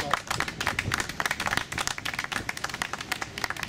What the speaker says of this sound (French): j'ai parlé de Simone Eyive Gbagbo, que je vous demande d'applaudir d'abord